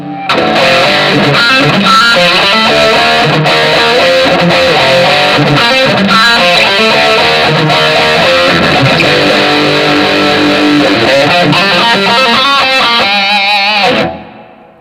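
Heavily distorted electric guitar through a Fender Super Champ X2 high-gain amp plays a dense, continuous riff for about fourteen seconds, loud and close, then cuts off abruptly.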